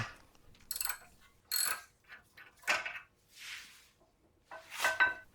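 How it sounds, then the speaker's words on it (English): Wrench turning and removing the rear brake caliper carrier bolts on a 2018+ Audi A4 B9, a series of short metallic ratcheting bursts with brief gaps between them, close and fairly quiet. "After loose the bolts, use a smaller wrench to remove them."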